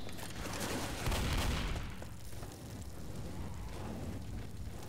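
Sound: gunfire in Left 4 Dead video game

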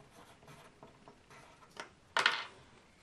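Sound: writing down a thermometer reading

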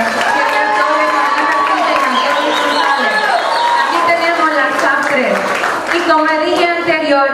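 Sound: audience applauding pageant contestants

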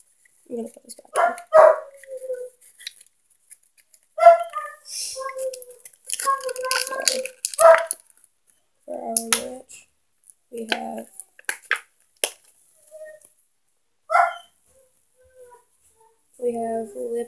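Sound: dog barking

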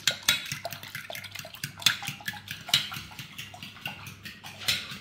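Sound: beating eggs with water and salt in a bowl

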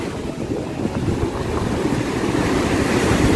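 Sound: ocean waves breaking on a beach

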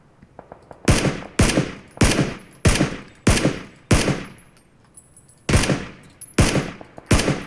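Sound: gunfire in a video game

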